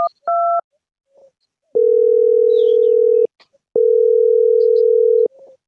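A telephone dial tone sounds loud and close: a couple of short beeps, then two long steady tones separated by a brief gap.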